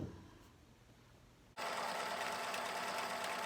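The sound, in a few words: sewing machine stitching quilt pieces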